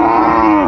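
A Sahiwal bull calf at a cattle market gives a single short, sustained moo, close and loud, with a steady tonal bellow filling the whole brief moment.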